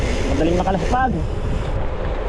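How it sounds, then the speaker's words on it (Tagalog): Strong headwind roars across the microphone during a motorcycle ride, a loud, continuous rushing buffet with a voice speaking briefly over it. "napakalakas po ng hangin dito. Headwind."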